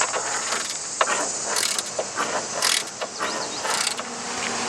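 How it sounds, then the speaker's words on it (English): A Torx bit unscrews a door bolt on a Jeep Wrangler or Gladiator, producing a close, continuous run of ratcheting mechanical clicks and metallic squeaks. "And lastly, we're going to remove this bolt."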